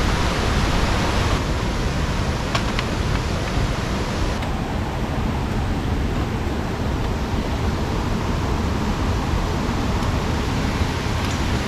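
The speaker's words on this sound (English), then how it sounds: "Come right down close to the waterfall now. Well, or a cascade, it's not really a waterfall, is it? It's a little cascade." A small cascade on the River Tees produces a steady, broadband rushing of water, close and continuous throughout with no pauses.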